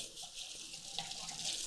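Running potable tap water streams steadily into a sink while produce is washed under it, giving a constant bright hiss and splash at moderate level.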